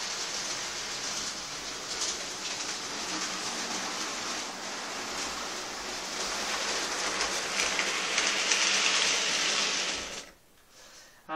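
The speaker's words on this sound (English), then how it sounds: "So that's a Deltic running with just 4 coal wagons, nothing big or heavy or anything." An OO gauge model Deltic locomotive hauling four coal wagons around a layout, giving a steady rolling rumble and wheel clatter that builds slightly louder as it nears, then cuts off abruptly near the end.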